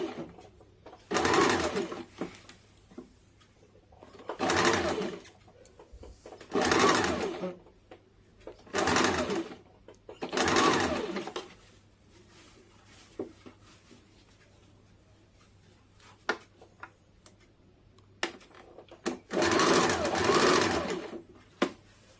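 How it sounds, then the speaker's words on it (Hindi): A sewing machine sews down a pulled neck strip on a simple darted blouse in six or seven short, close bursts spaced a couple of seconds apart. Quiet handling sounds fill a longer pause before a final longer run. "गला वाले पट्टी को हम लोग खींच के बैठाएंगे और इस दाग के ऊपर पूरे में सिलाई डाल देंगे"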